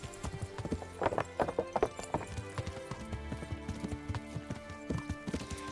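Horse hooves clip-clopping at a walk in the medieval video game Kingdom Come: Deliverance, with a brief whinny among the footfalls, moderately quiet over faint background game sound.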